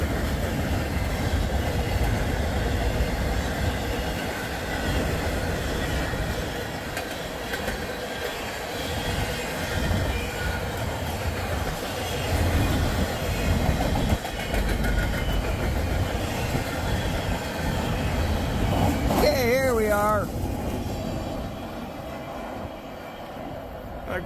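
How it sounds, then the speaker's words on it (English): A Norfolk Southern freight train rolls past on a cold day, a steady loud rumble of rail cars filling the whole stretch, with a brief horn-like tone near the end. "There goes that one."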